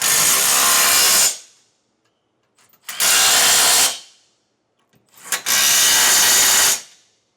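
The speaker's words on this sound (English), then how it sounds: "Now we'll take a 19mm or 3/4 inch socket and tighten this" A power tool with a 19mm socket tightens trailer hitch bolts on a 2024 Nissan Frontier in three separate loud whirring runs of about a second each, separated by brief quiet gaps.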